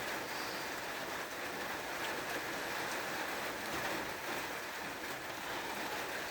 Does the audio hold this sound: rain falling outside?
yes